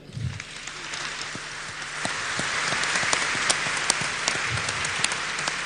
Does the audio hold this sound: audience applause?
yes